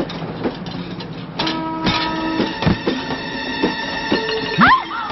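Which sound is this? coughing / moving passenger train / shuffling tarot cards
moving passenger train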